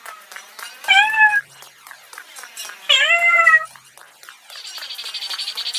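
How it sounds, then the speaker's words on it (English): A cat gives two loud, drawn-out meows close up, separated by a pause, followed by a softer, rapidly pulsing sound at the end. "cat, cat, cat,"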